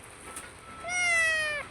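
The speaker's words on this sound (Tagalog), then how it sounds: "Talagang pusa." A house cat gives a single rising-then-falling meow, close and clear over faint room noise, lasting under a second.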